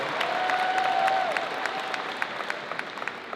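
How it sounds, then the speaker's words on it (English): Parents at a 2023 engineering commencement ceremony applaud in a steady wash of clapping that gradually thins into scattered, sharper individual claps. "I hear parents applauding the end of writing checks."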